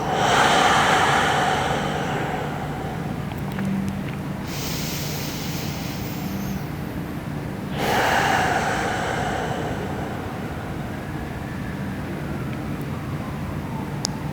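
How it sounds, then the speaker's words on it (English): Slow, audible yoga breaths drawn in and pushed out through the nose and mouth, each a soft airy rush near the microphone, with a long steady exhale and a second breath swelling around the middle. "as you expand the breath, a little bit of sound comes to the inhale, and a little bit of sound comes to the exhale"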